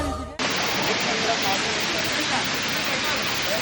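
A waterfall at Yercaud pours in a loud, steady, broadband rush that fills the whole stretch, cutting in abruptly after a brief moment of muffled sound at the start.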